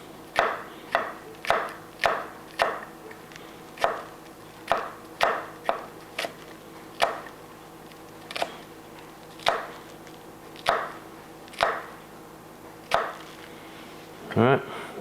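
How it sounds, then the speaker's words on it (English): A knife slices thin pieces of lemon on a cutting board, giving a series of about twenty crisp, evenly spaced taps close by, with a short scrape near the end. "I'm going to give this some thin slices."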